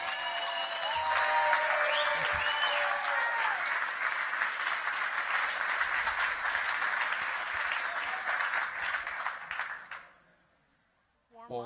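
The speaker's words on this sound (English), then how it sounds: "let's give a huge Startup Grind cheer" A large conference audience at a startup event bursts into sustained applause and cheering, loud and even for about ten seconds, with a few whistles early on, then fading to silence.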